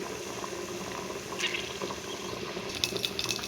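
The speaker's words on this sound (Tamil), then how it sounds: "கடுகு போட்டுக்கலாங்க. கடுகு பொரிஞ்சதுக்கப்புறம்" Mustard seeds crackle and spit in hot oil for a country chicken gravy, a steady close fizz with sharper scattered pops building toward the end, no voices.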